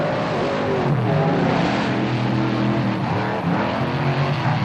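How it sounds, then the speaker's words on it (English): Monster trucks rip their tires hard at a show, a loud continuous engine roar with grinding, squealing tire noise that holds steady throughout, close and unbroken. "Both guys ripping the tires hard right there."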